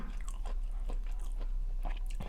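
Close-up chewing of stir-fried Chinese kale with pork, a few soft crunchy bites spaced through a short stretch with no talking.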